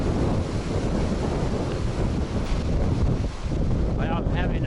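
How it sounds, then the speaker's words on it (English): Strong gusts from a severe windstorm in Utah buffet the microphone outdoors among pine trees, a loud, continuous roaring rush that surges and dips slightly for several seconds without a break. "I'm having some strong gust of wind hit me now."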